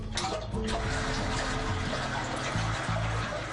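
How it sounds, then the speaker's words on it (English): A commode flushes in a house during a paranormal investigation, a continuous rushing, gurgling stream of water at moderate loudness with a low plumbing rumble beneath it. "Go ahead and flush that commode."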